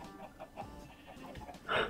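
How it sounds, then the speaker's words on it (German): Chickens cluck softly in the Minecraft Tekkit video game, a few faint short clucks and one louder squawk near the end over low background noise. "Komm, hier Hühner."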